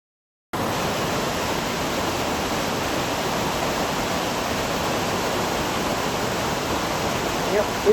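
Sullivan Falls waterfall heard from above its edge in cold, icy conditions, a loud, steady broadband roar of rushing water that starts abruptly and holds constant throughout.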